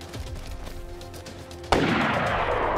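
Gunfire rings out in the survival video game DayZ: faint muffled shots early on, then one sharp, loud close blast that leaves a long ringing decay, with no talk over it.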